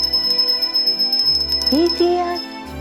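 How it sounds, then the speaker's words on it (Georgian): A small bell tinkles with a high, continuous ringing tone from the scarecrow fairy tale, sounding over gentle background music with a brief rising musical flourish. "ზარი უფრო ხმამაღლა რეკავს, იმიტომ რომ ესე იგი უახლოვდებიან."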